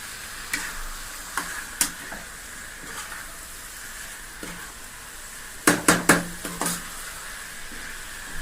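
Chicken pieces in gravy are pushed around a pan with a utensil, giving a few scattered scrapes and clinks and then a quick cluster of louder knocks. A soft, steady sizzle runs underneath at low volume.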